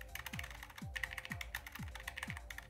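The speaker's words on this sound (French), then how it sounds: "C'est bien un clavier à membrane." Rapid typing on a G-Lab membrane keyboard, a steady patter of soft keystrokes with a recurring low mechanical thump, close and moderately quiet.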